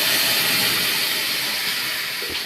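Tomatoes dropped into a hot pan while cooking okra, giving a loud, steady steaming hiss that fills the whole stretch and fades only slightly, with no talking.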